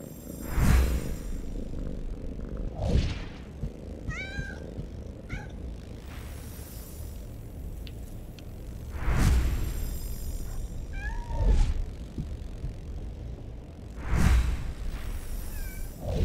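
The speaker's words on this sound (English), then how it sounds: "Kittens!" Kittens in Harry Potter and the Order of the Phoenix video game meow repeatedly in short, high, clear cries, spaced across the span over soft whooshing game ambience.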